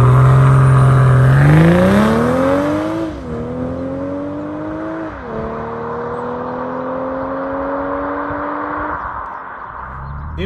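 A BMW M240i under way, its engine note climbing steadily through the gears with clear pitch sweeps and brief dips at each shift, close and loud inside the cabin.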